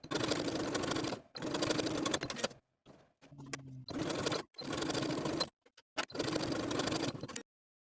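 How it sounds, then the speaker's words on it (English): Domestic sewing machine stitching elastic onto a jumpsuit seam, loud steady whirring bursts separated by short pauses and a faint handling noise. "Then I'll take it back to my sewing machine and sew that elastic in place right along the original stitching line."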